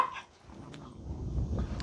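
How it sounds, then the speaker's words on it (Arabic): An aggressive Belgian Malinois dog lets out a couple of short, sharp barks close by, mixed with scuffling and handling noise. "كلب اغريسيف اغريسيف بزاف بزاف ما كيخلينيش كاع نقيس فيه"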